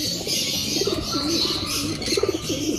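Soft, repeated coos from a pigeon hen, close and fairly loud, with rhythmic rising-falling calls over a faint chirpy background.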